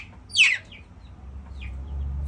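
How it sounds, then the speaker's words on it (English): A hen separated from the rest of the flock gives a single loud, rising call, then a fainter second call, with a low background rumble and no talking. "So they hear them, and it's like their call,"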